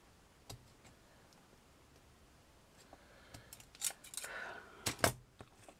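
Small scissors snip as a handmade miniature seaside surfing shack is trimmed, giving a few faint, sharp, close clicks that grow denser and louder toward the end, over a quiet background.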